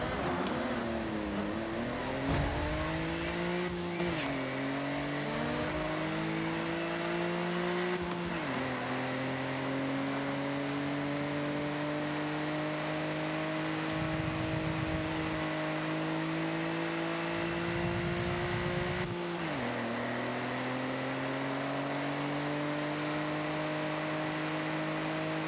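A 1994 Honda Acty kei truck's tiny engine, 37 horsepower, in Forza Horizon on a circuit, droning and revving up through gears with repeated shifts, a thin buzzing tone rising and dropping over a long steady run, no talk.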